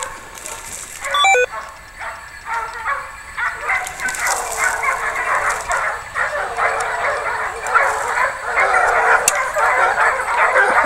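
A pack of Fauve and Anglo hunting hounds bays continuously while chasing a wild boar through the woods, overlapping yelps and cries at fairly close range forming a loud, sustained chorus.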